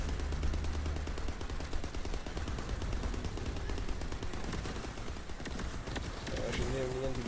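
Rapid bursts of video game gunfire crackle against a busy backdrop of game effects, with shots firing steadily throughout and a brief tonal chime near the end.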